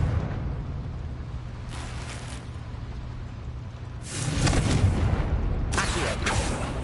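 Confringo spell blasts in Hogwarts Legacy, fired in a short sequence, with booming explosive bursts over a low rumbling background, the later impacts heavier and louder.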